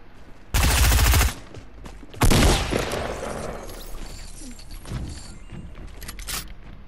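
Shotgun blasts in Fortnite, two loud, close bursts a second or so apart, followed by lingering clatter and fainter in-game noise.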